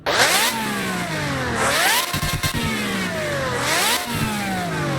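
Maserati MC12 engine in the Roblox game Midnight Chasers, loud and close, revving up in repeated rising sweeps with brief drops between pulls, a continuous aggressive engine note with no talking.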